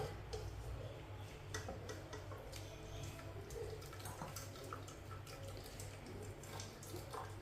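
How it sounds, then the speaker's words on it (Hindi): Water draining from cooked mustard greens (sarson ka saag) through a strainer, a soft steady trickle and patter with small ticking drips, quiet and close with a low background hum. "साग को छन्नी के साथ ना इसी तरह पानी निकाल लेंगे।"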